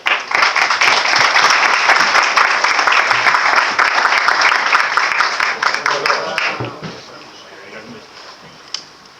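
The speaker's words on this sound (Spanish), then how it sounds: "Un fuerte aplauso, por favor." Loud, dense applause from a sizable crowd at a conference round-table panel, sustained for several seconds before thinning into scattered claps and fading out.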